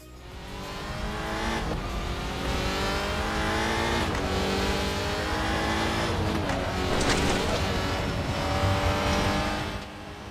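An Audi RS3 WTCR race car in the RaceRoom racing game accelerates hard, its engine revving up through rising harmonic sweeps with brief dips at gear changes, loud and continuous for about ten seconds, with faint tire noise.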